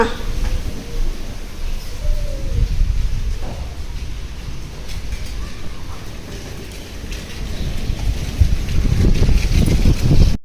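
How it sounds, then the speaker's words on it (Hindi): A strong dust storm wind roars steadily around a house courtyard, a loud broadband rush with gusting surges that grow stronger toward the end. "ये देखिए पूरा एकदम बादल पूरा घेरा था और बहुत तेज़ आंधी आ रही थी।"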